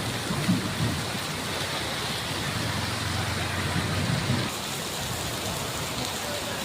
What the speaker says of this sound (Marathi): माझ्या मागे बघा इकडे खूप खूप जोरदार पाऊस पडतोय